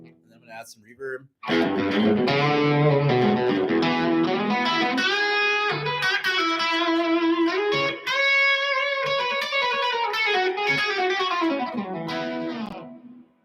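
An electric guitar runs through distortion and reverb, playing sustained, ringing chords and melodic lines with a long, washy tail, loud and continuous after a brief quiet start.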